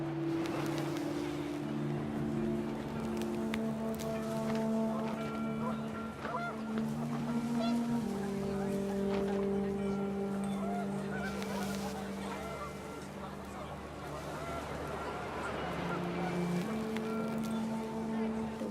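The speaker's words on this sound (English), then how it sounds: "The wind picked up, and panicked geese appeared and quickly went." Panicked geese honk in a flurry of repeated calls over a windy outdoor scene in the video game What Remains of Edith Finch, layered with a low droning tone and a narrating voice underneath.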